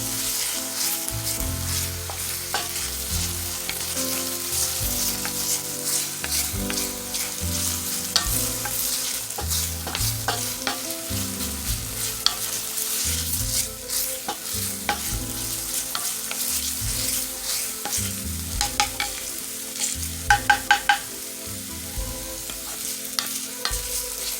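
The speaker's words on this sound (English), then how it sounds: "add in your garlic, and we're going to go ahead and let that saute." Garlic and onion sautéing in a pan, a steady close sizzle with frequent scraping and stirring clatter from a utensil throughout, no voices.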